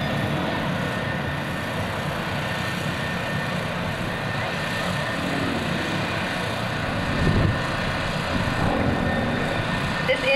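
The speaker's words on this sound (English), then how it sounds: "This aircraft was designed by Russian engineers for the sole purpose of winning air show aerobatic competitions." A Russian-designed aerobatic propeller plane performing at a 2002 naval air station airshow, its engine a steady, distant drone throughout, with a slight swell in the later seconds.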